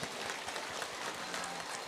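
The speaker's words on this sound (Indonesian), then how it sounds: "Tepuk tangan untuk semua mimpi-mimpi kita." Audience applause at a lively religious gathering, steady dense clapping from a large crowd sustained throughout without a break.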